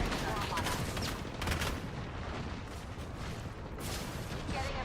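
Airstrike artillery fire in a video game, a dense continuous barrage of booming blasts and crackling gunfire rolling steadily throughout, loud and close with no pauses.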